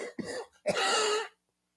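A short throat-clearing cough followed by a longer rasping cough, close and fairly quiet, then silence.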